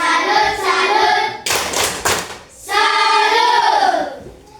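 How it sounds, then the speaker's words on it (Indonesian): A classroom group of children chants in unison and claps in rhythm; a short burst of hand claps sits between stretches of loud, close voices. "Oke, tepuk salut untuk kita semua."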